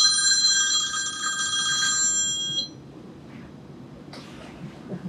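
A cell phone rings loudly for about two and a half seconds with a bright electronic trill, then cuts off, leaving quiet room noise and faint movement.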